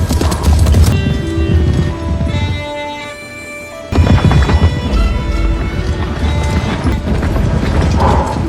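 Cavalry horses charge into attack in a battle scene of a medieval English army against Scottish rebels, with dense hoofbeats, a brief lull, then a renewed loud galloping clatter layered with music.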